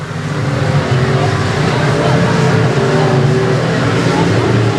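Race cars roaring around Boothill Speedway, a dense, loud engine drone from several cars at once, with a commentator talking over it.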